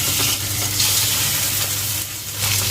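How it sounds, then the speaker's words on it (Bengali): Pabda fish coated in salt and turmeric fry in hot mustard oil, a loud continuous sizzle close by with bursts of crackle rising and falling, no talking. "নুন হলুদ মাখানো পাবদা মাছগুলো ভাজার জন্য দিয়ে দিচ্ছি।"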